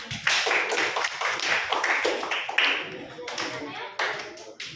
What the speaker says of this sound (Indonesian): Beri tepuk tangan dulu untuk Ani.